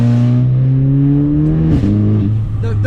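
A VW Scirocco running a pop and bang map with a DSG gearbox gives a loud, close engine note that rises steadily, then drops sharply on a quick downshift and keeps revving with crackly bursts.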